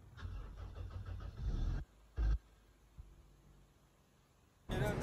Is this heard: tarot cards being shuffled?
no